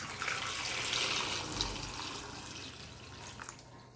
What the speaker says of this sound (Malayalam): അതിലേക്ക് ഇനി വെള്ളം ഒഴിച്ചു കൊടുക്കാം കേട്ടോ.